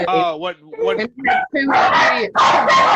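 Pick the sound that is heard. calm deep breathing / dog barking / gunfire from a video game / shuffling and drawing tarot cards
dog barking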